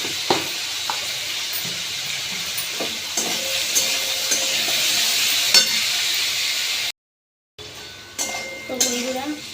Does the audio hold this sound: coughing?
no